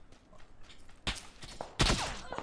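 Video game gunfire aimed at the player: two bursts of loud, close shots crack in at about one second and again near the end, over a quiet background with no talking.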